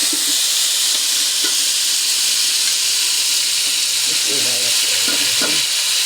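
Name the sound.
meat frying with browned onions for biryani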